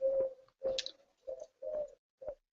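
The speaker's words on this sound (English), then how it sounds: "that pigeon is drowning him out" Pigeon cooing close by in five separate low hooting calls, evenly spaced with short gaps, loud and alone.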